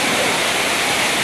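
Water gushing from a burst main water pipeline in Powai, Mumbai, a loud, dense, unbroken roar that fills the whole moment without pause.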